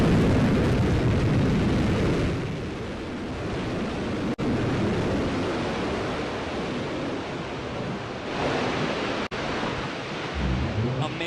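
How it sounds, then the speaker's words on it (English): New Shepard rocket booster from Blue Origin touching down after its engine relight, with a loud continuous roar of broadband rumble holding steady for the whole stretch. Two brief dropouts break it, and the roar swells again near the end. "Another picture-perfect landing for New Shepard rocket booster."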